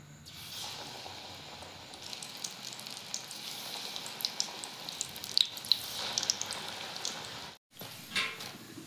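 Banana flower chops frying in hot oil in a home kitchen, a soft, steady sizzle with faint crackles and pops throughout, quiet and close with no talk, briefly cut near the end.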